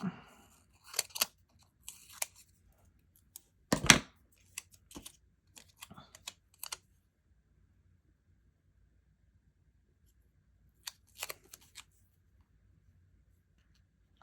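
Scissors cut and trim material to fit, with scattered crisp snips and rustles, close and quiet against near silence, including a louder cluster of cuts partway through and a few more later.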